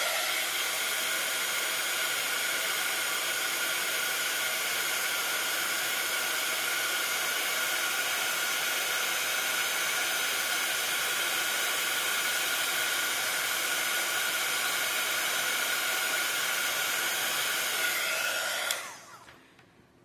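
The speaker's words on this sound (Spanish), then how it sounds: "y volvemos a secar con la pistola de calor" A heat gun blows a steady, loud whooshing hiss while drying embossing powder on a stamped surface in a scrapbooking craft setup. It runs unbroken for most of the stretch, then cuts off sharply near the end.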